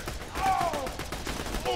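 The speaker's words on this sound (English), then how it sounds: "Just start shooting things." Gunfire in the video game Borderlands 2, rapid bursts of shots forming a dense rattling stream with whooshing effects, loud and continuous over under two seconds.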